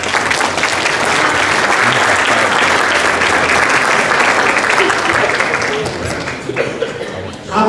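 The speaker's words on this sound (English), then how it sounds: "Let's give them a round of applause." Sustained, loud applause from a banquet crowd thanking the caterers of the meal, dense clapping filling the room for several seconds before thinning slightly at the end.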